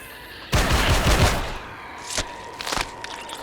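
Mid-range weapon fire in the Empyrion Galactic Survival video game: a loud rapid burst of shots lasting about a second, followed by a few sharper single cracks and light thuds.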